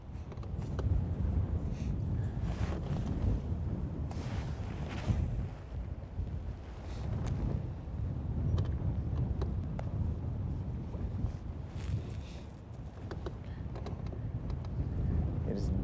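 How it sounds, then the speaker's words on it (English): Strong breeze buffeting the microphone while out fishing for crappie on the water, a continuous rumbling wind roar with gusty surges and some faint splashing throughout. "It is definitely breezy out here."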